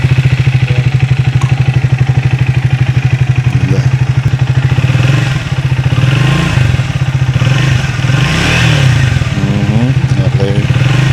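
A stock-exhaust motorcycle engine, a Triumph Speed 400 or CFMOTO 450MT, revs steadily and loudly close by, a continuous pulsing drone with some clatter and no talk over it.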